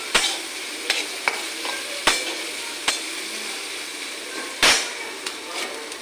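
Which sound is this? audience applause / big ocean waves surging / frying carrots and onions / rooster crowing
frying carrots and onions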